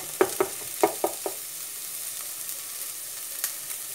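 Garlic and onion hit a hot pan for a beef tongue dish, giving a few quick close sizzling pops early on, then a soft steady frying hiss.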